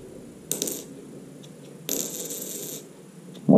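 A fake 2 euro coin is dropped and rings metallically, with two bright strikes followed by a short, fading shimmer and a final clink. It is fairly faint and there is no talking.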